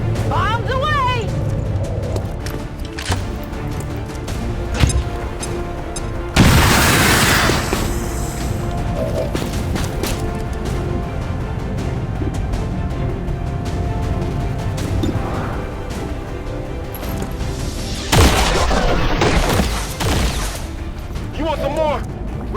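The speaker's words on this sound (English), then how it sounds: "Bombs away!" Bombs detonating during a battle in the video game XCOM 2: War of the Chosen: two heavy, loud blasts stand out against a steady bed of game combat noise and rumble.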